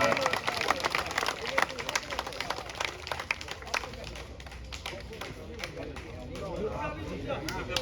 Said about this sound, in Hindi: भाई तालियों में कमी नहीं होनी चाहिए मंत्री जी के स्वागत में